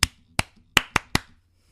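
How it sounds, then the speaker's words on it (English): Five sharp hand claps in a quick uneven rhythm, close and crisp, the kind a teacher uses to get a classroom's attention, with no talking. "Oh, the clap?"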